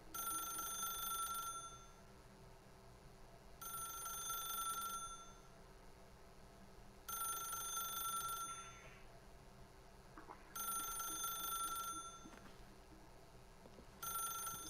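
A telephone bell rings in the Dead by Daylight video game, sounding in four or five regular bursts separated by pauses over a quiet ambient drone.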